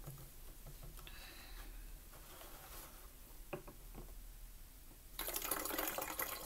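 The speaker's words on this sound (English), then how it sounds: "So I'm going to put in a couple of inches of water." Water pouring into a container for sweet potato slips, a faint background with a few small knocks, then a bright, steady splashing stream rushing in during the last second.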